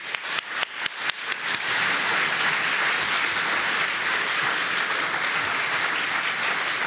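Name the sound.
audience applause for panel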